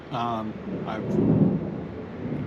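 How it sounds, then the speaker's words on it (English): A storm approaching outdoors sends a low, rolling thunder rumble that swells to a peak midway and then fades into a steady background wash, with a short voice heard at the start. "You can hear that there is a storm that's imminent here."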